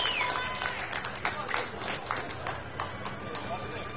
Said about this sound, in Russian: Мы слышим ваши аплодисменты, болельщики из Беларуси, слышим.